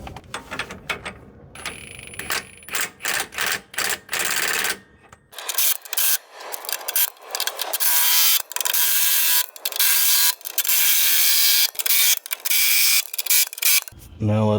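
A multi-setting power wrench tightens rear leaf spring bolts on a Freightliner truck, heard as loud, close mechanical rattling bursts separated by short gaps, ending in a sustained run.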